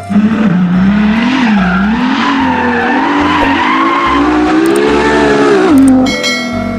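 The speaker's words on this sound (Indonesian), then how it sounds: "Wow, mobil balap." A race car skids with a loud, sustained tire squeal over a steady engine drone that rises and falls for several seconds before fading.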